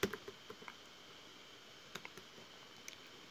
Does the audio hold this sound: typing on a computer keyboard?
yes